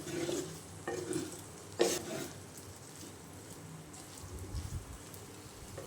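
A spatula stirs fried okra in a hot pan, giving scraping strokes over a steady, gentle sizzle. One sharper clatter stands out early on, and no one speaks.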